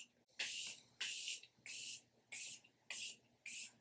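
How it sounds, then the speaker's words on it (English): Morphe setting mist is sprayed over a face in six short, evenly spaced hissing bursts, close and crisp with near silence between pumps. "I'm just going to take my Morphe setting mist and spray all over my face."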